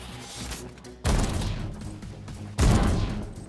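Two loud shotgun blasts in The Anacrusis, a first-person shooter, each a sharp boom that rings out and decays, spaced about a second and a half apart over steady game ambience, with no talking.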